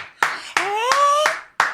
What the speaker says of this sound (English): Can we clap it up for that?